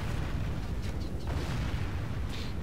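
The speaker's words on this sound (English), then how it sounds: "Crossbows doing their best." Massed crossbow volleys in a Medieval 2 Total War battle, a dense continuous roar of loud low thumps and bursts with battle din, no speech.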